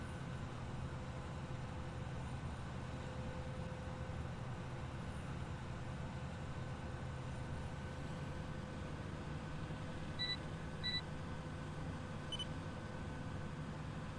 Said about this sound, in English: Those beeps you can hear are the GPS.